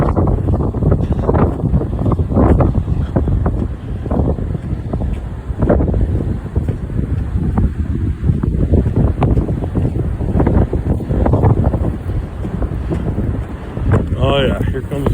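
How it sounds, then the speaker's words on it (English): Strong wind buffeting the microphone on a winter trail at Muskegon State Park, a loud continuous roar with gusty surges throughout and no clear speech. "Oh yeah, here comes that wind."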